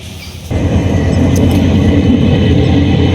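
A train rolls along in Bangladesh heard from aboard, a sudden loud, dense rumble of wheels and carriage noise starting after a brief quieter moment and continuing steadily, close and enveloping, with no talking.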